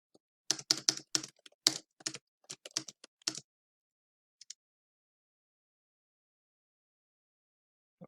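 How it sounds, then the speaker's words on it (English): Typing a command on a computer keyboard, a quick run of close, crisp key clicks for about three seconds, then a lone tap and silence. "I will just type the command."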